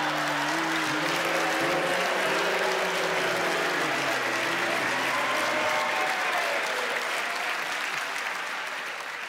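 A cabaret audience boos in long, wavering voices over dense applause. The crowd noise is loud and continuous and fades slightly at the end.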